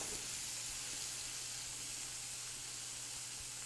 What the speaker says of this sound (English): We want to hit it with just a touch of white wine. Let that white wine cook off.